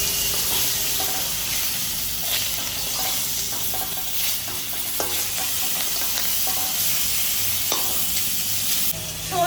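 Shol fish fries lightly in a little oil for a village-style curry with potatoes, a loud continuous close sizzle with occasional small pops and scrapes.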